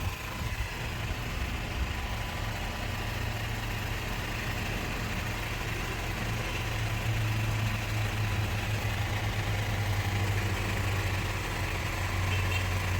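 A car engine with automatic transmission fluid poured into it idles steadily, a low continuous rumble at moderate distance with no voices.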